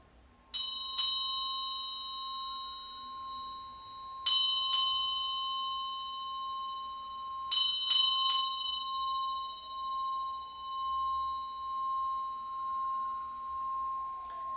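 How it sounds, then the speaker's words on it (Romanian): A Tibetan singing bowl struck several times, each strike leaving a long, bright sustained tone that hums and slowly wavers as it fades, with no voices. "Tuturor ne trebuie această vibrație pozitivă dată de clopotul tibetan, clopotul original tibetan"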